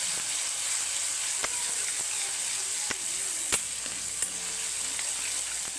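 Green chillies sizzling in a pan as they are stirred into besan pithla, a steady bright frying hiss throughout with a few sharp clicks from the spoon against the pan.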